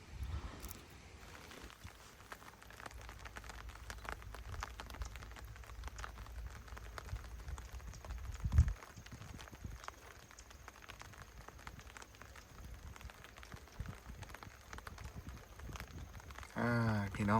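Rain falls outdoors beside the Mekong River during a fishing trip, a steady soft patter of drops with scattered louder taps, and a voice talks briefly near the end.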